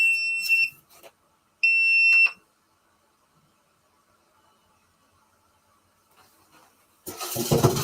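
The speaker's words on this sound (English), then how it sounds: "that alarm's just gonna keep going off until we get back to 100" A button quail egg incubator's electronic alarm sounds two sustained high-pitched beeps about a second apart, then falls silent, ending in close rustling and handling noise.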